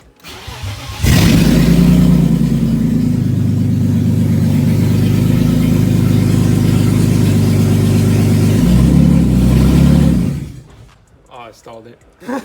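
A BMW E36 drift build's engine fires up loudly and runs with a rough, throbbing idle for several seconds, dips, then cuts out as it stalls, leaving near silence with faint movement afterward.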